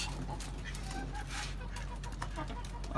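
Chickens kept on a rooftop cluck faintly in the background in winter, scattered soft calls over a steady low hum, with no one speaking.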